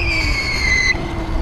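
An Uberscoot 1000W electric scooter brakes hard at full speed, giving a loud, high tonal squeal that holds for almost a second over rumbling road noise, then cuts off.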